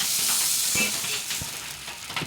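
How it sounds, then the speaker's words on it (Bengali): Thin rice-flour batter frying in a little oil in a wok, a steady bright sizzle with a few soft scraping stirs, close and alone without talk. "তো দেখো কড়াই বসে আমি অল্প তেল দিয়ে দিয়েছি"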